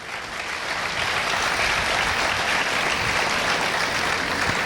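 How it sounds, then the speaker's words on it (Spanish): A church congregation applauds in praise, a dense, steady wash of clapping from many hands that swells in and holds loud and even throughout, with no voices clearly standing out. "Denle el aplauso al Señor. Déselo fuerte."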